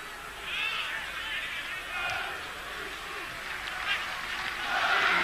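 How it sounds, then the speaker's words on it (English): A large stadium crowd at a Yugoslavia versus Macedonia football qualifier keeps up a steady, restless roar, swelling and easing in waves with scattered whistles, while a commentator talks over it. "Crowd are getting a little anxious here."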